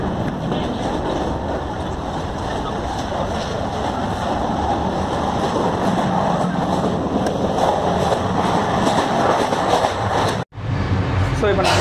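A passenger train running at high speed, heard from inside a carriage corridor: a loud, continuous rushing roar with rattling that holds steady. It cuts out briefly near the end before resuming.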